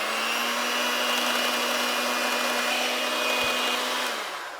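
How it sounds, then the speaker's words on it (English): An electric hand mixer beats eggs as melted butter is added for coconut-flour keto bread, a steady close whine that winds down at the end, no speech. "we are going to slowly add this to the egg mixture as we mix it"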